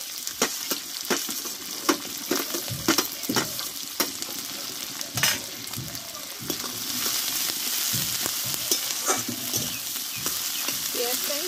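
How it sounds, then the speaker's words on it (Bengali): Onions fry in oil with a constant bubbling sizzle, broken by repeated close spatula scrapes and knocks against the pan as they are stirred. "পেঁয়াজটা আমি ভালোভাবে ভেজে নেব।"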